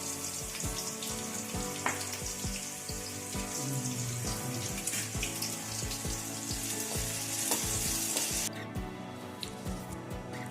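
Dried red chillies frying with a pinch of salt for a ridge gourd curry, a crackling, spattering sizzle with frequent sharp pops and ticks, close and continuous, dropping slightly near the end.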